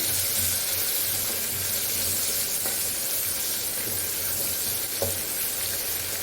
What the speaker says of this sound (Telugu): ఇప్పుడు ఉల్లిపాయలు వేసేసుకున్నాం